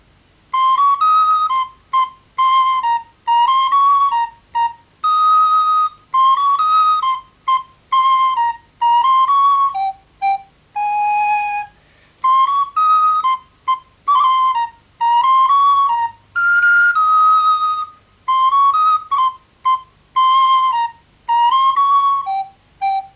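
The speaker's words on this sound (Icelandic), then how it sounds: "því þá heimsækjum við hana Kamilu Söderberg, hún er flautuleikari og hún ætlar að spila fyrir okkur lag sem heitir Það er leikur að læra." Solo flute plays the Icelandic children's song "Það er leikur að læra", a bright, clear melody of short phrases and sustained notes separated by brief breaths, loud and close with no talking.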